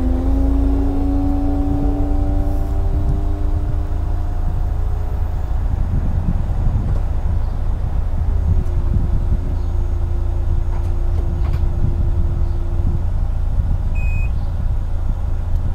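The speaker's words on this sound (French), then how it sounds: "Et là, on entend le système de toit s'ouvrir." Electric folding roof mechanism of a 2001 Peugeot 206 CC 2.0 16V convertible opening, a loud sustained motor whine with shifting pitch over a steady low hum, running alone without speech.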